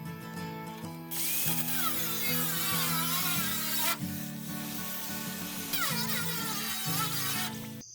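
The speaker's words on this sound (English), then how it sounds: "there are some grinders that's better than others, and this one here is a little bit better" An angle grinder cuts metal for a homemade grill, a loud continuous whine that shifts pitch as the disc bites and eases, with short breaks between passes and no talk over it.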